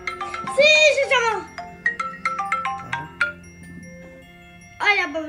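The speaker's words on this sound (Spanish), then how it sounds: "Vamos a llamar por teléfono." A musical ringtone chimes close by in a short melodic pattern, with a voice chattering over it and a pause before another tone.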